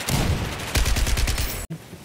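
Video game gunfire crackles in a rapid burst of closely spaced shots, loud and close, after a denser stretch of shooting and ending abruptly.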